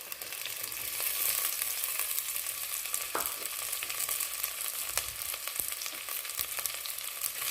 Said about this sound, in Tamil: இது ரெண்டுமே நல்லா வதங்குற அளவு வதக்கி விட்டுருங்க